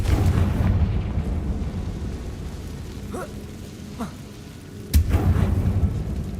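The Confringo blasting spell goes off in the Hogwarts Legacy video game: a low, rolling rumble of fire and debris, then one sharp, loud blast near the end, followed by renewed roaring.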